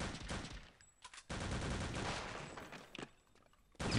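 Gunfire in the game Return to Castle Wolfenstein, heard as dense bursts of rapid shots in a near, loud fusillade, broken by a few brief pauses and then resuming.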